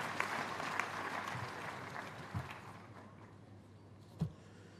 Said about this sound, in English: Applause for our Pro-Chancellor.